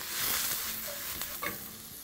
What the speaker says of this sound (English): very good at this whole stir fry move. And then the peas go in there.